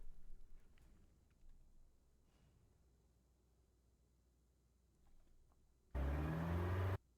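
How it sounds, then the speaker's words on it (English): In a video game, a car shakes and vibrates all over, heard as a sudden loud, low rumbling burst lasting about a second after a near-silent stretch with faint engine hum. "I'm literally talking the entire car is shaking like you're in a massage chair."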